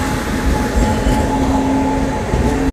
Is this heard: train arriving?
yes